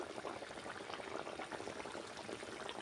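Mustard oil is drizzled over cooked silver carp in a pan, a faint continuous bubbling, pouring liquid sound with a light sizzle and no break.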